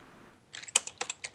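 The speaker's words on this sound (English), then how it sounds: "I'm typing it out." Fast typing on a computer keyboard, a quick irregular run of sharp key clicks starting after a short quiet moment, close and moderately loud with no talking.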